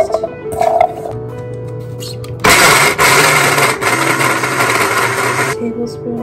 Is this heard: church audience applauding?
no